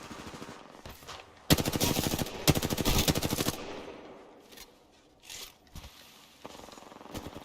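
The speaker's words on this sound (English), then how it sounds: "the gun's too loud" Rapid automatic gunfire in a video game rattles out in two loud sustained bursts, with scattered single shots and quieter noises between them and no talking.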